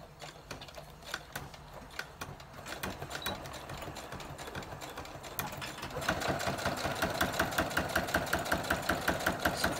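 Sewing machine running a straight backstitch along the edge of a fabric holder, a steady rapid mechanical chatter that grows louder and more rhythmic in the second half, with no talking.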